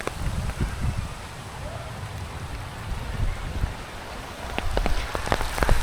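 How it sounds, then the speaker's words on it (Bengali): Heavy rain with big, hail-like drops falls, a constant hiss of rain with sharp, separate splats of large drops that come thicker toward the end, fairly close and with no talking. "এই যে বড় বড় পানির ফোঁটা, বৃষ্টিগুলো অনেক মনে হয় শিলের মতন করে পড়তেছে"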